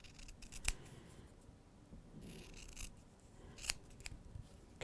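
Scissors snipping around curves in quilting fabric for a Double Cross quilt block, a few crisp close cuts spaced apart with soft rustling of cloth between them.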